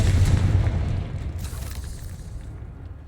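A Confringo blasting spell in Hogwarts Legacy goes off as a single loud booming explosion that rumbles and slowly fades out over a few seconds.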